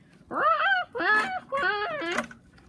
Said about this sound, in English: It constantly tries to communicate with other chickens by going